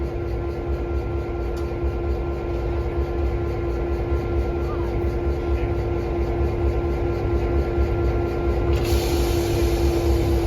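A railroad turntable spins at the Tennessee Valley Railroad Museum, a steady low mechanical drone and hum that holds evenly throughout at moderate loudness.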